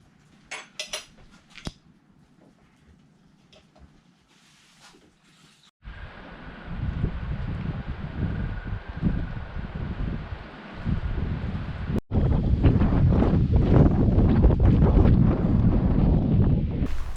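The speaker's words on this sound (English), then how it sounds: "Ooh, it's windy out." Wind gusts roar strongly against the microphone outside a remote wilderness cabin, building into a dense, steady rush after some quiet clinks and rustles indoors.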